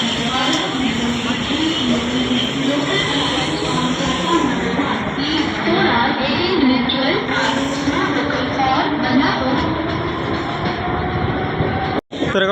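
Steady rumble and rattle of a train ride arriving at Dombivli near Mumbai, loud and continuous throughout, with voices murmuring underneath.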